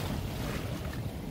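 A small boat rocking on wavy water on a windy day, with a continuous broadband wash of waves and wind buffeting the microphone, no talk.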